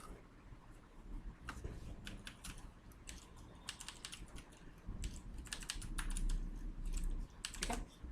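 Steady typing on a computer keyboard while entering a comment in a Microsoft Excel spreadsheet: rapid, irregular clicks close to the mic, with several dense bursts of keystrokes over a low background hum.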